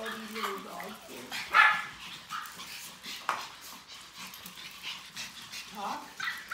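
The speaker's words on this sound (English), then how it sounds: "Are you getting scared of all these little dogs here?" Several small Pomeranians yip, bark and whimper nearby in scattered bursts, with one sharper bark standing out, while a person talks softly over the restless little dogs.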